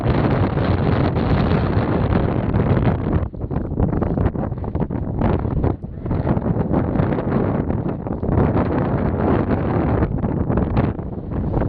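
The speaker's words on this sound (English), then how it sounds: "A very windy day." Strong wind buffets the microphone in a constant, heavy roar outdoors across from Mount Ararat, with gusty fluctuations throughout and no voices.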